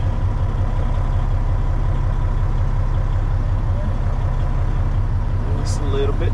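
A semi tractor idles and creeps forward in gear, its diesel engine giving a steady, loud low drone close by with a brief higher hiss of air near the end.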